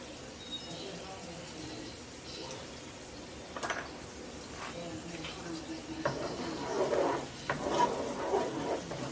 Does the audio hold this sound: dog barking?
no